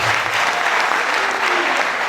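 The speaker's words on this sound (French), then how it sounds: "Si vous pouvez quand même l'applaudir" Dense audience applause at a conference on urban planning for a Kinshasa metro, loud and continuous throughout with a faint voice underneath.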